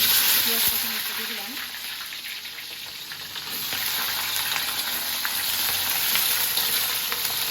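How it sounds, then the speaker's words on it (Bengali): Large potato chunks sizzle loudly in hot oil in a wok, a constant crackling fry with a brief voice early on. "এই কড়াইতে আলু দিয়ে নিতেছি সাইজটা একটু বড় বড় করছি"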